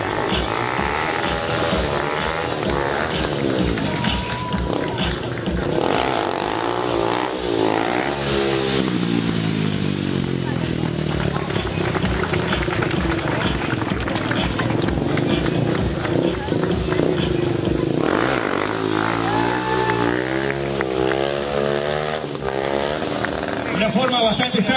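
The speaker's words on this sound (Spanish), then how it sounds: "forma bastante extraña de andar en moto, ¿no?" A motorcycle engine revs and roars continuously during a stunt riding show at a motorcycle meet, loud and steady throughout, with a crowd and an announcer's voice layered over it.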